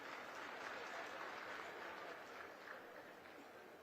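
Crowd applause at a political rally in India, a continuous, faint and distant patter of many hands clapping that holds steady throughout and thins slightly toward the end.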